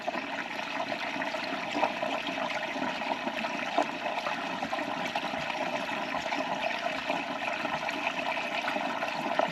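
A full 20-litre jerry can is tipped up and drained through a wide funnel, giving a steady, fairly loud gurgling rush of liquid that runs unbroken for the whole stretch, with no voices over it.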